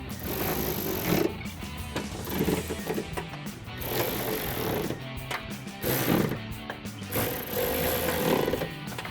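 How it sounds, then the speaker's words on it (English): A ratchet tightens the bolts on a 2024-2026 Mustang GT rear spoiler, producing a steady run of rapid, close clicking with a few pauses and heavier clunks. "Now throw a ratchet on the other side of that socket and tighten those all down."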